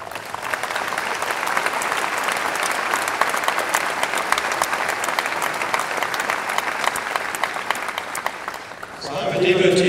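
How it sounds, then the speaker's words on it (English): Sustained audience applause at a college graduate school commencement ceremony, dense and steady for about nine seconds before tapering off as a voice begins speaking at the end. "I would ask each of you to give a special round of applause to Jane and George Benson for their service."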